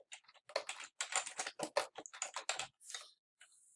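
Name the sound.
typing code on a computer keyboard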